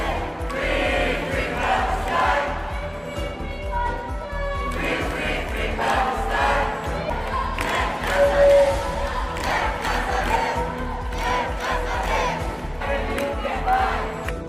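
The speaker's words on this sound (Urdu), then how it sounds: "نیدرلینڈ میں لوگوں نے ایک ٹرین اسٹیشن پر فلسطینیوں کے لیے آواز اٹھائی اور فری فلسطینیوں کے نعرے لگائے" A large crowd at a train station in the Netherlands shouts and chants pro-Palestinian slogans together, voices overlapping in a loud, continuous roar with rising and falling surges.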